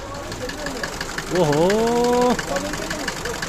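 A diesel engine in a Mercedes 190 idles with a faint, steady clatter of knocking ticks. Midway, a voice breaks in with a brief drawn-out exclamation over it.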